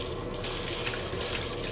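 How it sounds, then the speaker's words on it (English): Liquid whirlpool tub cleaner poured from a leftover bottle into a bathtub, a steady splashing trickle that runs for under two seconds with a few brighter splashes partway through, close by and with nobody talking. "So it says just pour it in"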